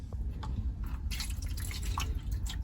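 Water runs and drips into the drain of an RV shower tub during a leak test, a steady close trickle with scattered brighter splashes and drips throughout.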